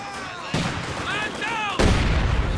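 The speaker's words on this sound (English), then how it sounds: "His mortars are killing his own guys." Mortar shells firing and exploding in a WWII strategy video game tournament match, a sharp blast at about half a second and a heavier impact later, with whistling tones and game noise in between.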